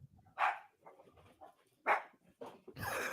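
A dog barks in a few sharp, separate bursts at moderate distance, alone with short whimpers and rustling between the barks.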